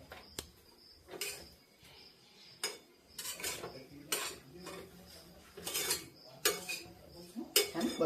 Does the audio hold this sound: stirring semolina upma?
yes